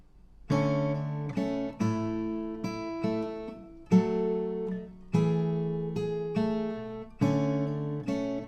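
Acoustic guitar playing the main fingerpicked riff of a song: a repeating pattern of plucked notes and small chord groups with slides, moderately quiet and close, with no talking.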